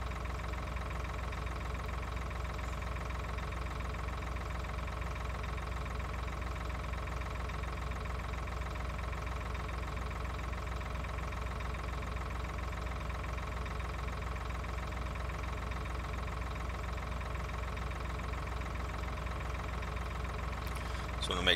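A combine harvester engine in a farming simulation game drones steadily at an even, low idle hum throughout, with a faint click near the end.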